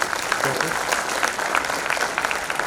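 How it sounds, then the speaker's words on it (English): An audience at a college convocation ceremony applauds, a dense, steady wash of clapping that stays loud and even for its whole length, with no clear voice standing out. "So a round of applause for your parents"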